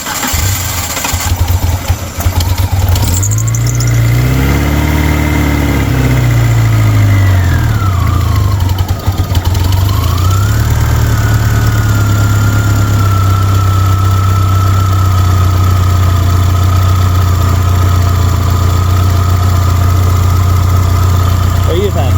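A car engine fitted with Holley Sniper EFI cranks and then catches, settling into a steady loud idle with some uneven surges, while people talk nearby.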